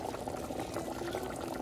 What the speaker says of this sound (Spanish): roncando está la carne de puerco, roncando.